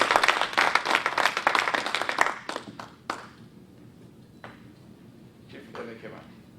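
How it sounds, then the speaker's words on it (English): Convention audience gives a round of applause, many hands clapping loudly for about two seconds before thinning out into a few scattered claps, with faint voices in the room afterward. "One more round of applause for him."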